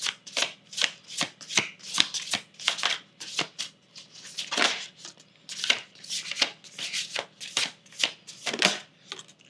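Tarot cards are shuffled by hand close up in quick repeated riffling bursts, a steady rhythm of crisp flicks with no talking.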